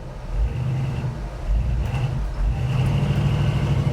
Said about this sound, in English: I'm going to select it into the 4 high position, and then we're going to put it into drive